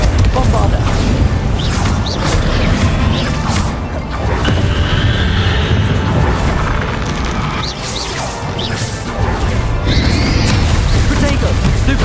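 Bombarda explosion spells in Hogwarts Legacy, loud booming blasts and crashing impacts amid constant dense combat noise, with a voice talking over the fighting.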